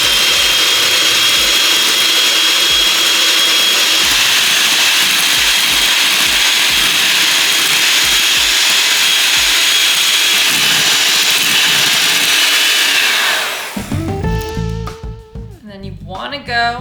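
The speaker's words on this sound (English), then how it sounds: "so a hand mixer it is" Electric hand mixer whipping egg whites toward stiff peaks for a gluten-free lemon meringue pie, a loud steady motor whir running without a break for about fourteen seconds before it cuts out, followed by quieter kitchen sounds.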